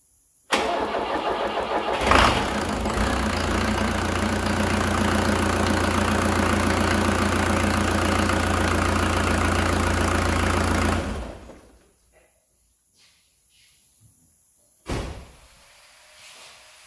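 A Range Rover Classic engine cranks and starts, then runs at a loud, steady idle for about nine seconds before cutting off, followed by quieter clunks like a door or bonnet in a workshop during an engine service.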